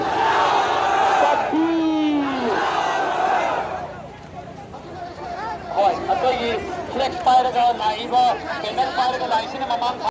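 Large crowd chanting loudly in response to a takbir call at a Waqf Act protest gathering, voices surging together in a sustained roar, then dropping into overlapping shouts and babble.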